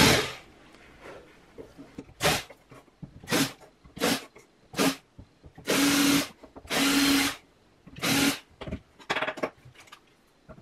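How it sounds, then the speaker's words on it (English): A power drill whirs in short, loud bursts of varying length, stopping and starting repeatedly at close range while a small tweeter speaker is repaired. "I'll get my drill."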